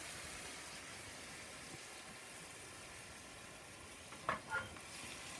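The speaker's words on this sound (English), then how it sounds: "I'm going to just turn this down to where it's going to simmer." Bacon and onion jam with balsamic glaze simmers in a pan, giving a steady, soft bubbling sizzle throughout, with two brief louder stirring scrapes near the end.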